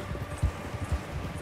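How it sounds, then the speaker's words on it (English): Horse hooves galloping in Red Dead Redemption 2 as the rider urges the horse on, a steady thudding clip-clop rhythm at moderate loudness. "I'm kicking on with this horse"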